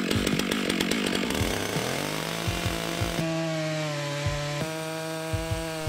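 A chainsaw cuts a shallow groove into a log while planks are prepared for a backyard mountain bike trail. The engine drones loud and close the whole time, its pitch shifting as the bar bites into the wood.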